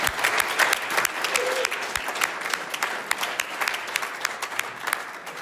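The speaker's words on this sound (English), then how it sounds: "Let's give tonight's speakers another round of applause." An audience at an AA speaker meeting in Clearwater, Florida applauds the evening's speakers, a dense, steady round of clapping with no talk over it.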